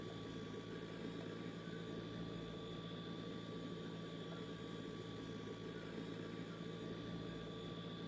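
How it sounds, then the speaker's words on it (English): A Fokker F27 turboprop engine runs after start-up in a flight simulator game, a steady, even drone with a faint whine that holds without change and no talking over it. "Now the engine's well and truly started."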